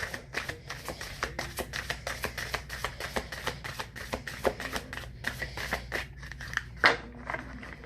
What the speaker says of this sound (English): Let me give a shuffle.